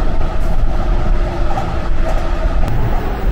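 A JR 185 series Odoriko limited express train runs with its windows open, filling the clip with loud, steady, close rumble, wheel noise and rushing air, with no voices.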